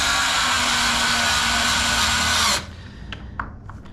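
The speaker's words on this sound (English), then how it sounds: "Not really powerful enough to strip anything, but it does work to drive screws in." Small electric screwdriver driving screws during a lock rekeying job in a vacant house, a steady high motor whine lasting about two and a half seconds before cutting off, followed by faint clicks and handling noises.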